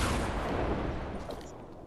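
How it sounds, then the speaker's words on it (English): Gunfire in the Fortnite video game: a dense, loud, sustained volley of shots from close range that tapers slightly toward the end, with no talking. "there's people shooting at me"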